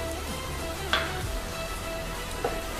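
Egg frying in a pan for a quick breakfast egg roast, a steady soft sizzle with a couple of light utensil clinks, fairly quiet and alone.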